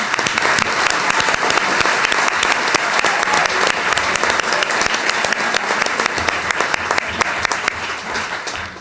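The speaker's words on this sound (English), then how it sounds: "Let's give them a round of applause." Audience at a council meeting applauds the Camp Robin athletes, loud dense sustained clapping from many hands throughout, close and continuous with no talk.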